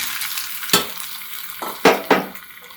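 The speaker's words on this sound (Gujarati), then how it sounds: "બોઇલ કરેલા બટેકાને આપણે આની અંદર એડ કરી દઈશું" Boiled potatoes dropped into hot oil seasoned with asafoetida, giving a steady frying sizzle with several sharp bursts as pieces hit the pan and are stirred, close and moderately loud.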